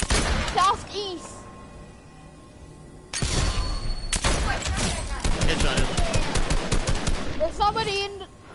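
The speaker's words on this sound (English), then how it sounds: "I heard gunshots. They're coming from southeast." Video game gunfire: a short burst at the start, then a long stretch of dense rapid automatic shooting and booming shots, loud and close, with voices talking over parts of it.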